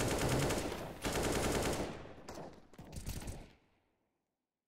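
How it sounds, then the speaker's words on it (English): Rapid automatic AK rifle fire in the video game L.A. Noire rattles out in several close, loud bursts with short gaps, ending in a brief echoing tail and silence. "Nice AK, nice AK."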